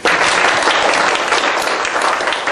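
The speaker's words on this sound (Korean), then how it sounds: "큰 박수 한번 부탁드리겠습니다" Loud, dense audience applause at a 2014 future economic policy lecture event, steady clapping from a crowd filling the room without a break.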